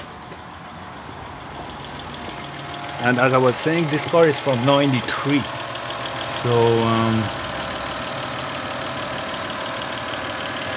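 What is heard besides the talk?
1992-93 Toyota Camry 3.0L V6 3VZ-FE engine idling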